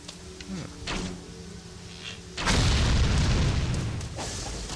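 Barrels exploding in the action video game Ninja Gaiden Sigma 2: a sudden heavy boom breaks in midway after quieter game sounds, then a loud rumbling blast tail that lingers and slowly fades.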